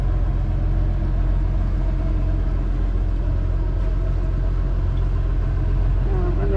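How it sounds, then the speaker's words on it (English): A dredger boat's engine rumbles past on the water, a loud, continuous low drone with steady mechanical texture throughout, no break in the sound. "One of the dredgers coming out for the day."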